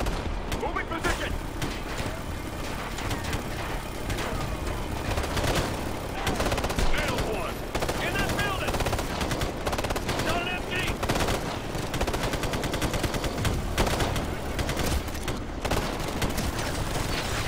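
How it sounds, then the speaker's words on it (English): Dense, sustained machine gun fire in the shooter game Ghost Recon Future Soldier, loud continuous rattling bursts filling the whole stretch alongside battle sounds and shouted voices. "Gunner on an MG!"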